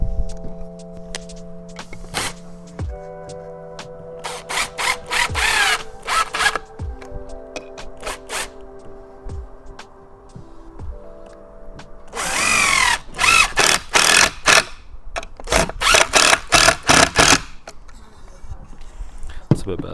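A power drill whines in repeated bursts as screws go into a wooden coffee table leg, with a longer, louder run midway, short gaps and handling clatter in between.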